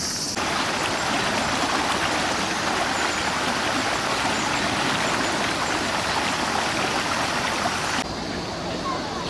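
The clean, clear river feeding a wasabi farm rushes steadily, a loud, continuous broadband wash of running water close by that holds unchanged throughout.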